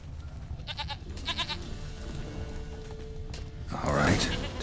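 Goat in The Witcher 3 bleats twice in quick quavering bursts, followed by a scraping, rustling swell near the end over low ambient hum.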